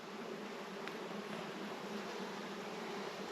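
Honey bees swarm around an open hive with drawn comb and stored honey, producing a steady, close, even buzz with no voices.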